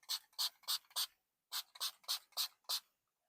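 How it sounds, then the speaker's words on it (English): Liquid solution sprayed from a spray bottle onto a screen protector film, about ten sharp hissing bursts in two quick rhythmic runs separated by a short pause, close and clear with no talk. "And then we're going to spray the screen"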